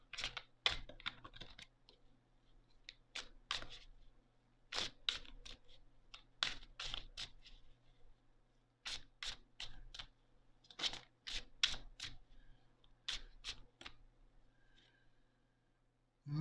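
Tarot cards drawn and laid out on a table during a reading, a series of crisp, sharp card snaps and slaps arriving in irregular bursts, close and fairly quiet, with no talking.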